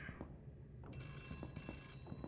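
Telephone ringing in an RPG Maker video game: a bright electronic bell-like ring that starts partway through and repeats in short bursts, quiet and alone, with no voices.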